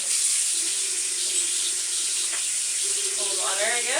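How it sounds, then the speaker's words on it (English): Tap water runs steadily into the tank of a Hoover Floormate floor cleaner in a laundry room, a constant close hiss with a rising gurgle near the end as the level climbs. "Fill it with water."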